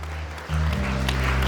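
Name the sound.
audience applause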